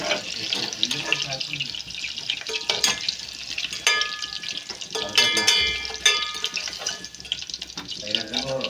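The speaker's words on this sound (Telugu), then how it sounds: "ఇవి కొంచెం కొంచెంగా అయితే ఫ్రై చేసుకుని తీసుకుంటానండి" Meal maker soy chunks frying in a pan, with a busy mix of sizzle, stirring clatter and watery hiss, plus scattered sharp utensil knocks close by.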